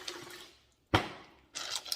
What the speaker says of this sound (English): I'm going to dump just a little more water.